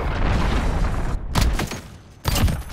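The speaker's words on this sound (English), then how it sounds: "Cruise missile incoming" A cruise missile strike in Call of Duty: Modern Warfare lands as a burst of loud booming blasts that roll through sustained battlefield noise. A short quiet gap is broken by a second heavy impact.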